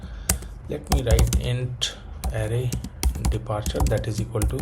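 Keys clatter on a computer keyboard as code is typed, quick irregular clicks interleaved with someone talking close to the microphone.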